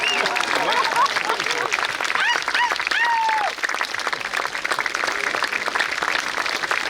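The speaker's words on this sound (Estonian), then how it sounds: "aplaus ka Reigole!" An audience applauds steadily at a town orchestra's centennial concert, dense sustained clapping throughout while a voice speaks over it near the start.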